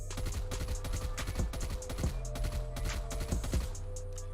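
The KSP base gun in a video game fires a rapid automatic burst of sharp, punchy shots in a steady rhythm, loud and close, with the recoil left uncontrolled.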